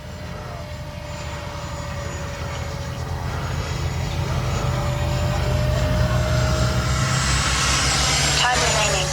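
A Freewing F-35 70mm EDF RC jet in flight, its ducted fan a steady whine and rushing roar that grows gradually louder as it nears, with faint outdoor background.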